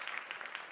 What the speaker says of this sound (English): clap it up for Rose, please